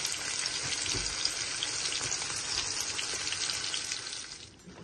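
Fish sizzles steadily in a hot pan with garlic, a continuous dense frying hiss that holds close and even, then drops off toward the end.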